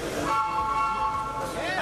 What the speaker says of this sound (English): the train would blow its whistle every time we left